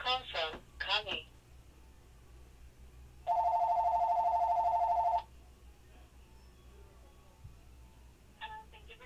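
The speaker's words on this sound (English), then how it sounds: "Call from Connie." A telephone rings for an incoming call in the Fight Angel arcade game, one continuous electronic ring lasting about two seconds, preceded by brief synthetic voice sounds and followed by quiet.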